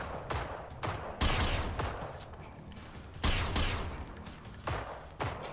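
Rapid bursts of gunfire in the video game Generation Zero, aimed at a gas tank near a bridge, crack out loud and close in several separate volleys, with sharp onsets and short gaps between them.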